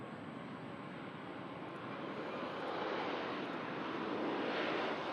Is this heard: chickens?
no